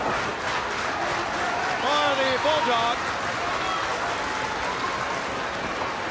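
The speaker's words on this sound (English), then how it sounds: "the fans in unison clapping here" Wrestling crowd at a WCW Saturday Night tag-team match clapping and cheering in a large arena, a loud continuous roar of applause with a commentator's voice heard over it.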